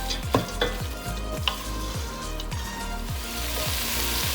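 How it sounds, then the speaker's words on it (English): Sprouted masoor lentils with spices sautéing in a pan for a lentil rice pulao: a steady sizzle with repeated stirring scrapes and a few utensil knocks, close and continuous, no talking. "Saute it really well. Let all the spices incorporate with the sprouted masoor."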